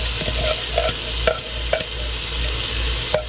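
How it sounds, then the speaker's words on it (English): Diced onions sizzle steadily in a pan while a utensil scrapes and stirs them in several distinct strokes, heard close up with no talking. "I'm going to put my onions in to soften them up a little bit"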